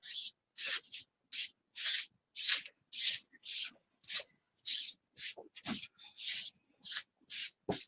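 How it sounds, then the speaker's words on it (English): Repeated rubbing strokes as residue is scrubbed off a silk screen, about sixteen short bursts in a steady back-and-forth rhythm, close and fairly loud with brief pauses between strokes. "What we want to do is make sure we're removing all of the residue off the silk screen."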